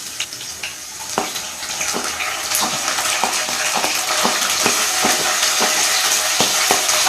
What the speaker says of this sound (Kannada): ಕರಿಬೇವು, ಬೆಳ್ಳುಳ್ಳಿ ಫ್ರೈ ಆದಮೇಲೆ ಈರುಳ್ಳಿ ಹಾಕ್ಕೊಳ್ಳೋಣ